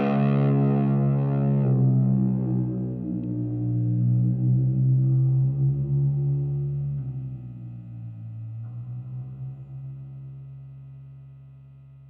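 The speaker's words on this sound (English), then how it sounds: "Let's take a look at this Pink Panther delay pedal." A Pink Panther delay pedal with its dark knob turned produces a heavy, distorted tone. It starts bright, then darkens into a low, droning, warbling mass that slowly fades over about twelve seconds, with no talking.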